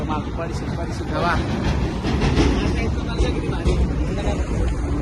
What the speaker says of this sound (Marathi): ती ट्रेन चाललेली बघा.